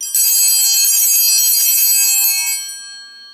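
Altar server bells rung during Mass, a bright cluster of high metallic chimes sustained steadily and loudly, then fading out as the ringing stops.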